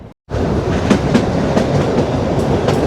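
Kalka–Shimla narrow-gauge toy train rolling through tunnel number 98, a steady loud rumble of wheels and carriages with rhythmic clickety-clack beats echoing inside the tunnel, no voices.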